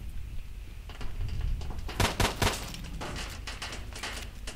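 Pistol shots from an M1911 in the S.T.A.L.K.E.R. Shadow of Chernobyl shooter, a cluster of three or four sharp reports around the middle over a busy game soundscape with other noises.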